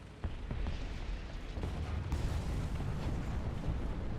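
A tank gun firing in War Thunder, the British Centurion Mk.5 AVRE, gives a deep booming blast that fills the low end and rumbles on through the rest of the moment.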